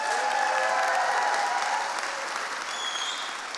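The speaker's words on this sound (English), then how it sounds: "Can we get another round of applause for him?" Steady, dense applause from an audience at a horror game awards show, a continuous wash of clapping that fades slightly over a few seconds.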